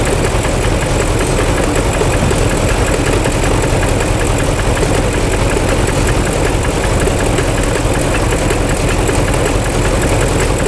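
A 2006 BMW 550i V8 with a camshaft fault idles loud and close, a dense continuous engine rumble with a faint knocking texture, steady throughout without any voices.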